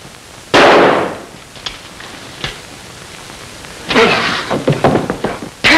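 Gunshots ring out in a 1942 wartime film scene, sharp loud bangs with noisy decaying tails: one isolated blast, a few softer knocks, then a cluster of rapid reports near the end.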